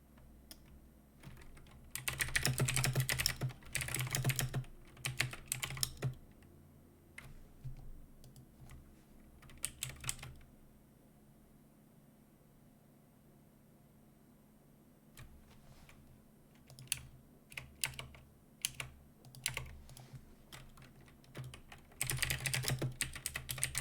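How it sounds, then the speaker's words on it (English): Fingers type on a computer keyboard in close, clicky bursts of rapid keystrokes, separated by quieter pauses with only scattered single taps, and no one speaks. "Listen to the keys and see if you can figure out what I'm typing."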